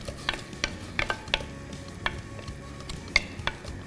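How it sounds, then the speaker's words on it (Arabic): Meat fries in a pot for a couscous dish, with a soft crackling sizzle and scattered sharp pops throughout. No one speaks. "اللحم تاعنا راهو تقلى"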